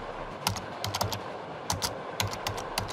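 Quick, light keystrokes tap on a laptop keyboard in irregular bursts, close and clear with no voices.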